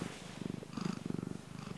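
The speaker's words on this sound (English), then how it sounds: "He's so happy purring," A pet cat purrs softly and steadily up close, a quiet rhythmic rumble pulsing with each breath and no voices over it.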